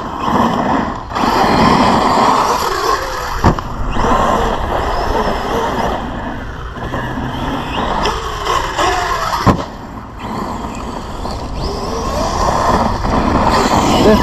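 A 6S RC monster truck, an Arrma Big Rock or Corally Kagama, drives and bashes over rough ground, its loud motor whine and rumble continuous and close, with sharp jolts from hard hits.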